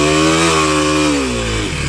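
A Kawasaki KLX 300 dirt bike engine drones loudly and close while riding in sand, its pitch sagging as it bogs down under load, with no one talking over it.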